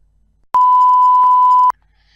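One steady electronic beep sounds as a phone call ends, a pure tone lasting just over a second that starts and stops abruptly against near silence.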